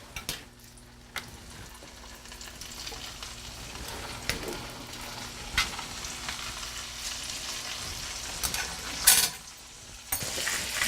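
A pork chop sizzles quietly in a hot pan, a soft, steady frying crackle with occasional clicks and utensil clatter, heard alone with no talking.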